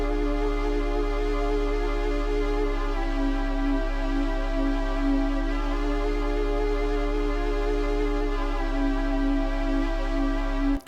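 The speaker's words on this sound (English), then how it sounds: "really easily with a little bit of post-processing on some saw waves" A warm, sustained synth pad built from processed saw waves holds a steady chord with rich, buzzy harmonics, droning evenly and loudly for the whole stretch before cutting off at the end.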